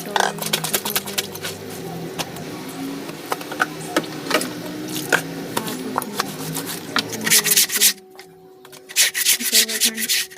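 Clothes are scrubbed by hand during washing at home, with no washing machine used. Repeated close rough rubbing strokes run in an uneven rhythm, briefly pausing before the vigorous scrubbing resumes.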